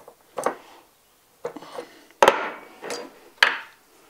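Metal parts of a homemade ram pump valve clank and knock as a lock nut is fitted back on: five separate close, sharp hits spread unevenly, with quiet gaps between them.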